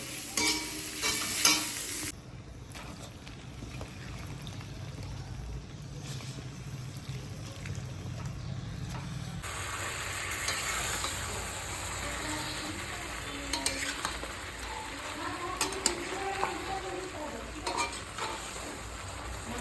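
Mutton is stirred and cooked in a pan with a steady frying sizzle, punctuated by the repeated scrape and clink of a utensil against the metal, louder in the second half.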